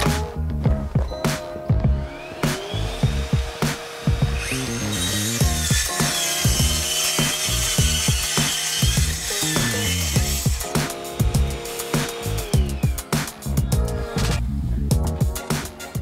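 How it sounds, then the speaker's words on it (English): A track saw cuts through wood while a drill charging station is being built in a home workshop, a loud continuous motor whine with sharp clattering and knocking throughout, close up and without talk. "get this marked out and cut down using the track saw."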